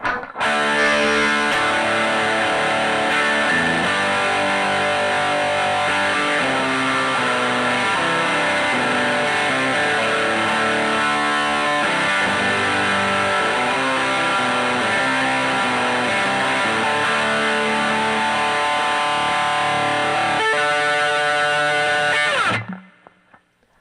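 Heavily distorted electric guitar through a Wampler Pinnacle Deluxe pedal into a Fender Blues Jr amp, playing loud, sustained crunchy chords without pause for over twenty seconds before cutting off abruptly at the end.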